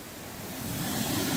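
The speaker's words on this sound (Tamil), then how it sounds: "இங்க வேற ஒரு அருவி கொட்டிட்டு இருக்கு" Waterfall at Kottakudi village in Theni, where two falls join, pouring into a stream in a forest setting: a steady, broad rushing roar of falling water with a low churning rumble, continuous and fairly close, no voices.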